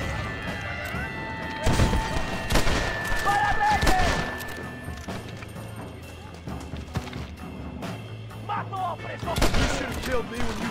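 Gunfire in the Western video game Red Dead Redemption: several sharp shots and short bursts ring out at irregular intervals over a busy game soundscape, with some speech-like sounds mixed in.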